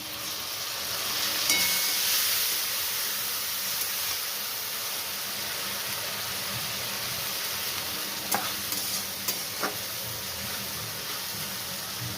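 Ginger-garlic paste sizzles and fries steadily in a pan for cholar dal, a continuous close hiss with a few small spatters and light stirring knocks near the end, no voices.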